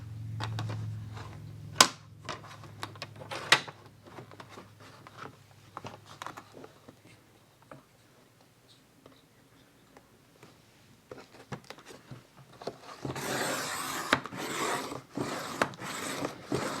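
Cardboard from a Triscuit cracker box is cut down, with scattered close snips, scrapes and light taps, then a steadier rough rasping toward the end.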